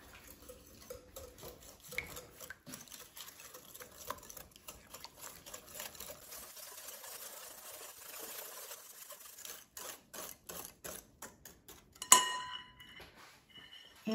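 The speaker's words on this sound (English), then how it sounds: "Whisk it until combined." Zucchini bread batter is whisked in a bowl, a quiet run of quick rhythmic scraping taps with brief pauses and a sharper clink near the end.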